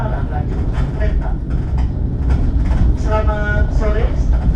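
Argo Parahyangan train arriving at Gambir station in Jakarta, a loud steady rumble of rail cars with a rising metallic squeal near the end, under an announcement voice.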